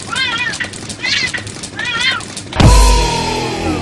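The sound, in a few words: cats fighting and yowling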